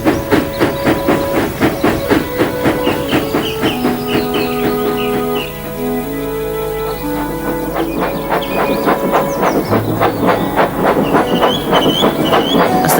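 A steam locomotive sets off pulling a brake van, with rapid rhythmic chuffs and hissing steam, a sustained whistle-like tone in the middle, then the puffing resumes, close and loud over a rail rumble.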